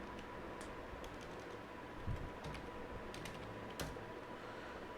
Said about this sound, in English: For the detailed system information, you just type uname